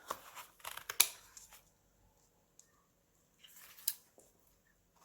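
Scissors snip through paper cutting out small tree shapes for a glitter tumbler, a quick cluster of close crisp cuts and rustles, a pause, then a few more snips, quiet with no talking.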